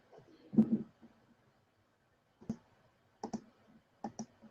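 Scattered clicks from a computer keyboard sound close and faint, a soft keystroke cluster followed by several short bursts of taps.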